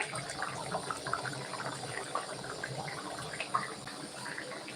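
Running tap water splashing over leaves being washed in a kitchen sink, a steady close rush of water with small irregular splashes and no speech.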